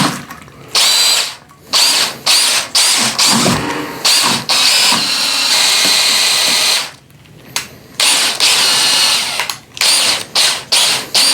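A power drill with a stirring stick whirs loudly in repeated bursts, starting and stopping many times, with a churning, sloshing quality as it spins in peated whiskey mash.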